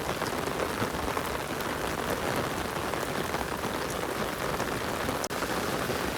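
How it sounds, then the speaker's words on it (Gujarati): Torrential rain hammers down on a village street in Vav, a loud, unbroken wash of drops striking nearby surfaces, steady throughout with a brief dip near the end and no speech. "વરસાદ આવે રહ્યો ફૂલ."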